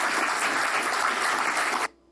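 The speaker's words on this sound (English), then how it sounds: "I'm sure that was a staffer that started the clapping" An audience claps steadily at a political talk event, a dense, loud burst of applause that holds evenly for nearly two seconds and then cuts off abruptly into quiet.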